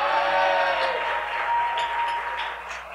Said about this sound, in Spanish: Esta es la parte en donde usualmente el público aplaude.